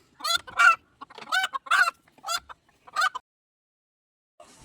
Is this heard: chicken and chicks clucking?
yes